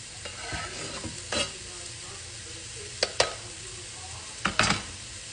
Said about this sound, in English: Now, you're gonna stir your garlic in.